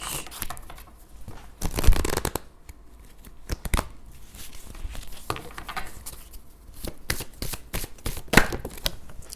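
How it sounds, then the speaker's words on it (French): Oracle cards are shuffled and handled during a card reading, making quick papery riffles and flicks in several close bursts with short pauses between. "Je vous prends une petite carte du chakra du cœur."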